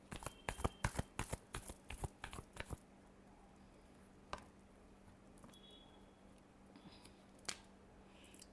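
Tarot cards being shuffled by hand give a rapid run of crisp, close snapping riffles for about three seconds, then only a faint steady hum with a few isolated soft clicks.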